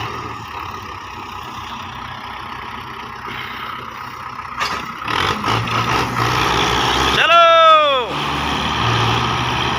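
A tractor engine labours and revs hard trying to drag a trolley stuck in sand, loud and close, rising in strain toward the end, with a voice shouting over it.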